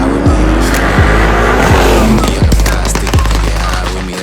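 A 900 HP Brabus GLE 63 SUV, built on the Mercedes-AMG GLE 63 S Coupe, accelerates hard with a loud, sustained engine roar and repeated rising gear pulls that climb, drop and climb again, close and filling the whole stretch.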